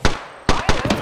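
Video game gunfire: four loud, close bursts of shots in quick succession, with no voices.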